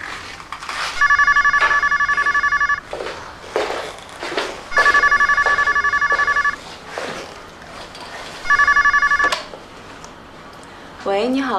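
A telephone rings indoors in three repeated electronic bursts with short pauses between them, close and clear, while people talk softly in between.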